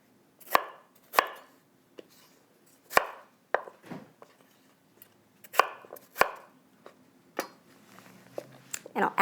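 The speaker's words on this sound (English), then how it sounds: "I'll go ahead and chop that up." A knife chops cucumber for gazpacho on a cutting board in sharp, close, irregular thwacks, spaced unevenly with short quiet gaps between strikes.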